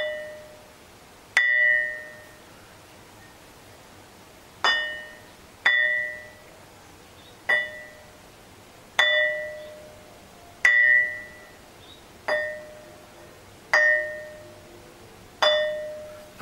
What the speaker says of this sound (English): I can actually feel my fingers underneath are deadening the ringing because I'm holding it